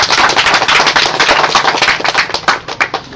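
Ceremonial cannon fired at a beach celebration, a dense crackling burst of sharp blasts and pops that fills the whole moment, loud and close with a rough, fireworks-like rattle.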